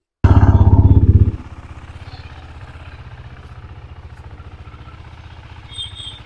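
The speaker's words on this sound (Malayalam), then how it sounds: "ഇതാണ് വണ്ടിയുടെ സൗണ്ട് ഒക്കെ വന്നേക്കുന്നത് കേട്ടോ" A KTM RC 390 motorcycle engine roars loudly up close for about a second, then drops to a steady, rhythmic idle putter that continues to the end.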